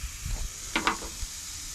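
Yabbies frying in garlic butter in a pan give a soft sizzle at close range, with a couple of brief stirring scrapes partway through and no talking.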